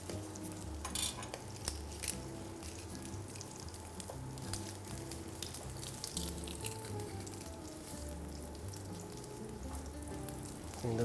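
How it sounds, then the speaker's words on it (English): Garlic sears in a little oil in a pan, a continuous crackling sizzle with faint clinks of utensils, no talking. "I'm going to add a little bit oil here, just a little bit, not too much, to sear the garlic."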